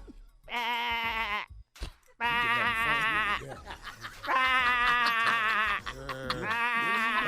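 A voice imitates a sheep with long, wavering bleats, three drawn-out baas separated by brief gaps and scuffling noise, close and loud.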